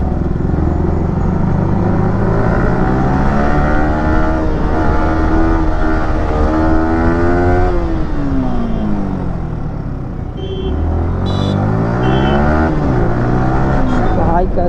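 A motorbike is ridden hard through road traffic, its engine revving loudly with rising and falling pitch as it speeds along, while someone talks over it almost throughout.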